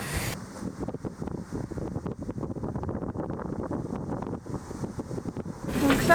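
Gusty wind of around 35 knots roars and buffets aboard a sailing boat at sea in a rain squall, a rough, continuous rush with water sloshing beneath and rising louder toward the end.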